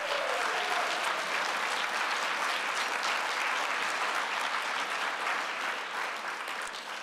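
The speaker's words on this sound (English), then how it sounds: "Let's give those students another round of applause." A luncheon audience at an annual university research event applauds students, with sustained, even clapping from a large room that tapers slightly toward the end.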